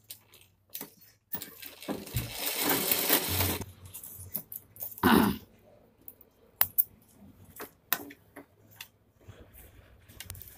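A domestic sewing machine stitches a zipper onto a fabric pencil pouch, running in one steady burst of about two seconds amid scattered clicks and handling knocks, with no talking.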